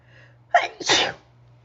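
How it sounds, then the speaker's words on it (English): One loud, close sneeze with a sharp intake then an explosive burst, alone over a low steady hum. "Sorry, I have to sneeze."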